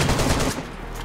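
Gunfire from the survival video game DayZ: a rapid burst of several close, loud shots fired in quick succession, fading into a short tail.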